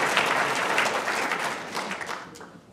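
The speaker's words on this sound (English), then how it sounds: "Oh, we clap, right?" Applause from an audience at a machine learning workshop at Rice University, a dense steady wash of clapping hands that holds throughout and tapers slightly near the end.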